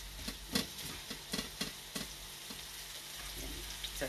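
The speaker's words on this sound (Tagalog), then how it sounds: "Giniisa ko siya sa bawang at sibuyas" Pork adobo sautés with garlic and onion in a pan, a soft sizzle punctuated by irregular spoon scrapes and clinks, heard close with no talking.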